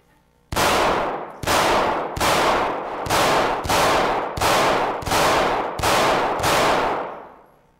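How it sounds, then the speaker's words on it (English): Nine loud gunshots fired at a stack of books, evenly spaced about a second apart, each sharp blast ringing out with a decaying tail, no talk. "Let's shoot some books."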